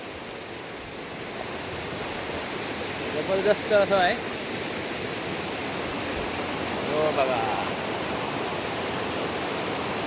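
A waterfall pouring steadily, a continuous hiss of rushing water filling the whole clip while a person talks briefly over it.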